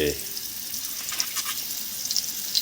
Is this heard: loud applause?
no